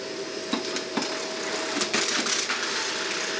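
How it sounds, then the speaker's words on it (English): A Lindhaus vacuum sucking up drywall screws, a steady motor whine with a few sharp metallic clinks and rattles as the screws are pulled in, close and moderately loud, no talking. "let's do some drywall screws and see how it does."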